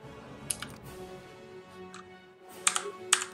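Computer keyboard arrow keys tapped while playing a PC game: a few sparse, crisp clicks, close and fairly soft, with no one talking.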